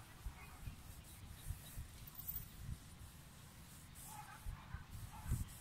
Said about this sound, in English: We take any oil, doesn't matter which one, put some, and we rub them, eggs.